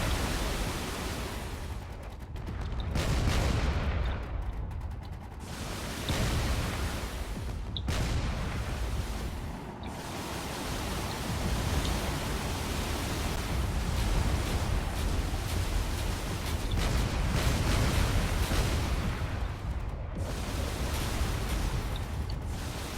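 Sustained cannon fire in the Drone Wars game forms a dense, noisy roar of repeated blasts and mechanical clatter that runs continuously throughout with little letup.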